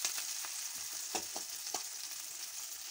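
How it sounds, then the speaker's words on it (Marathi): Onions and green chillies frying in oil for Maharashtrian methi bhaji, a steady close sizzle with a few soft stirring knocks and scrapes, no voices. "कांदे घालूया, नंतर मिरच्या घालूया। पण त्याला त्याच्यातच शिजू देऊया तेलामध्ये।"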